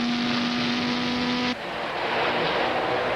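A GT race car at Monza in 1999 accelerates hard out toward the Curva Grande, its loud engine howling close with a steady high-revving tone that drops sharply halfway as it shifts or passes, then roars on.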